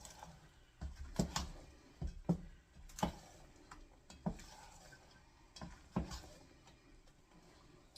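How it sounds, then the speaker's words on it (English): Batter being folded and stirred with walnuts for an applesauce cake, giving soft intermittent scrapes and taps of a spoon against a bowl, close and fairly quiet, with irregular pauses between strokes. "I'm just kind of folding, stirring."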